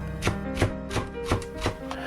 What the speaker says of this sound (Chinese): 1个小葱从中间片开，这样可以把葱花切得细一点